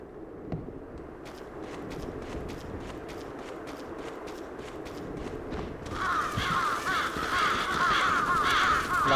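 Crows caw in the Xbox One video game Bloodstained: Ritual of the Night, their harsh calls rising loud and repeated in the second half over a steady ambient game background with faint footstep-like taps.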